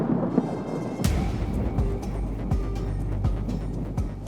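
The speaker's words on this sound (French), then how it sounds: "On est en train de traverser un orage" Thunder cracks sharply and rumbles on through a thunderstorm in open mountain rock country, one loud close strike followed by a steady heavy roar of rain and wind.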